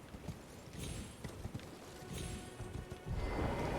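Horse hooves clip-clopping at a gallop in the Elden Ring video game, a dense run of close hoof beats over a noisy background that grows louder near the end.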